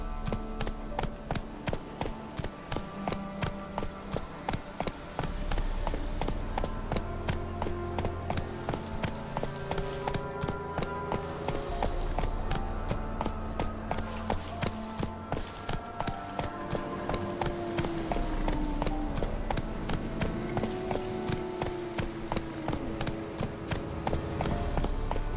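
Roach the horse gallops in The Witcher 3: Wild Hunt, hooves clip-clopping in a fast, steady rhythm throughout, heard over a continuous layer of game music.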